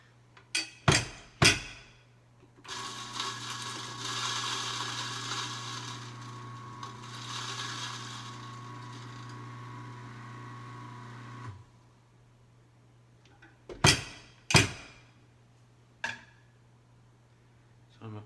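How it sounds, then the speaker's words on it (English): A coffee grinder loaded with Ethiopia Yirgacheffe beans is pounded to knock the last grounds out: three sharp close knocks, a long whirring grind over a low steady hum, then three more knocks. "it'll be a little pounding going on here. Probably not the best treatment of my grinder"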